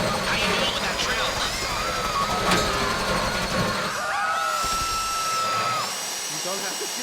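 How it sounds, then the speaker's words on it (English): Whining power drill boring into a safety deposit box during a bank heist in a video game, steady and loud with a pitch shift partway through, mixed with game sound and background commotion. "How you doing with that drill?"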